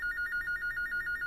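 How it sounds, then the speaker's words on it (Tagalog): A telephone rings with a steady, rapidly pulsing electronic trill, close and moderately loud, heard alone without voices. "kinsa pa ning nanawag sa telepono?"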